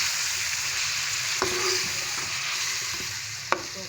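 Chopped tomatoes hit hot oil with frying garlic and ginger for a chicken and okra masala, giving a steady close sizzle with a couple of sharp clinks of a spoon against the pan.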